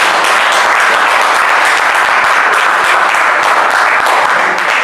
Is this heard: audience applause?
yes